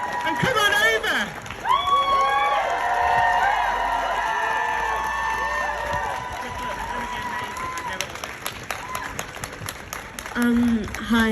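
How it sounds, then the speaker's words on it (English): A crowd at a street rally against conversion therapy breaks into applause and cheering, with whoops and shouts rising over dense clapping, then thinning toward the end as voices carry on. "let's show them a massive round of applause"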